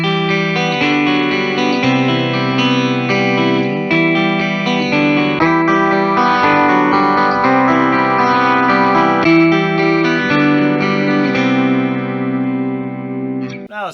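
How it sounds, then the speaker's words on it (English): Squier Paranormal Jazzmaster XI electric guitar in the middle pickup position, played clean with chorus-like shimmer: sustained chords and ringing notes through an effects unit, loud and continuous with no talking. "the middle position is where you really get some of those Jazzmaster-like tones"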